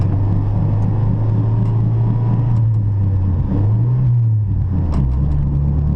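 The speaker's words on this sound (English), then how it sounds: "Bad wheel bearing, y'all are gonna hear that." Loud in-car road noise in a 1992 Honda Civic hatchback with a steady low droning hum from a worn wheel bearing that shifts slightly in pitch as the car moves.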